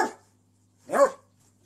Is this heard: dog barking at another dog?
yes